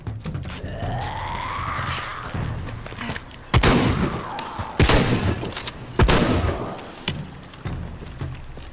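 Gunfire in the video game Shadow of the Tomb Raider: several sharp loud shots, three of them standing out, over ongoing game ambience and a low rumble.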